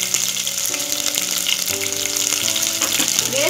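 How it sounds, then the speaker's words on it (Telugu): Onions and green chilli pieces sizzle steadily in hot oil in a pan, a loud, continuous frying hiss with crackle running without pause and no talk. "ఫస్ట్ మనం ఇందులో ఆనియన్స్ వేసుకుందాము, అందులోనే గ్రీన్ చిల్లీ పీసెస్ కూడా"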